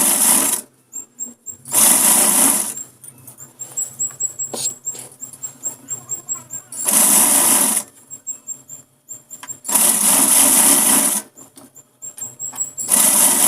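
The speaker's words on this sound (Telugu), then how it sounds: "ఈ విధంగా ఫోల్డ్ చేసుకుంటూ మొత్తాన్ని కూడా మనం ఇప్పుడు స్టిచ్ చేసుకోవాలి." A sewing machine stitches blouse piping and a hemming strip in loud, sustained whirring bursts of a second or two, separated by short pauses filled with faint clicks and squeaks as the fabric is repositioned.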